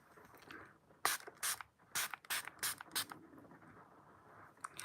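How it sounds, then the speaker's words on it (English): A pore-minimizing face spray bottle is pumped about seven times in a quick, uneven series of sharp misting bursts, close and crisp against a quiet indoor background. "It's basically a pore minimizer"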